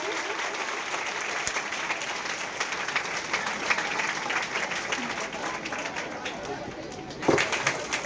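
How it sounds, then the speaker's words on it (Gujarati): An audience at a secondary school admission festival programme in Morthal applauds to welcome a student being honoured, with sustained dense clapping and voices mixed in until it thins out near the end. "આપણે તાળીઓના ગડગડાટથી"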